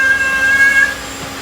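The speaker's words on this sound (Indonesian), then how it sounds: "Kucing, istilahnya kucing domestik" A domestic cat lets out a single loud, close meow that holds steady and then trails off, with no other sounds around it.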